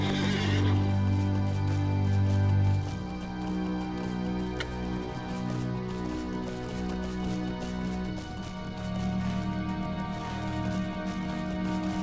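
A horse in the video game Lord of the Rings Online whinnies loudly in a long, wavering neigh, followed by steady hoofbeats and a sustained musical hum underneath.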